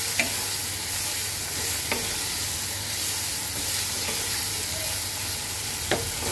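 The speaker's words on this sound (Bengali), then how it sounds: "এবার আমি সবকিছুকে সুন্দর করে কষাবো।" Onion, ginger and garlic paste sautéing on low heat for a dried fish (loitta shutki) bhorta, a steady close sizzle with occasional sharp clicks of a spatula stirring the pan.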